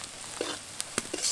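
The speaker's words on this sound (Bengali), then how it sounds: "মশলাটা কিছুক্ষণ খুব ভালোভাবে নেড়ে নিয়েছি" Ground spices, including roasted cumin and coriander powder, are stirred in a frying pan, giving a soft, low sizzle broken by a few quick scrapes and taps of the spoon.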